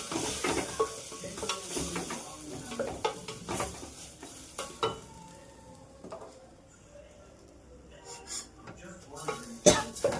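Washed rice being stirred in a frying pan while making spicy pongal, with scraping and clattering strokes, a faint sizzle beneath, and a quiet stretch midway before a few louder knocks near the end.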